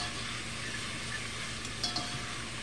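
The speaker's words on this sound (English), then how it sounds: "And of course, keep stirring it. Mix it all up in there." A spoon stirring charro beans with tomato chicken bouillon in a pot, a soft, close scraping and sloshing over a low simmering sizzle, with no talk.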